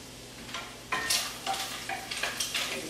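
Bacon frying in a pan, a soft crackling sizzle with sharper pops and a few clinks of a utensil, close by with no talk.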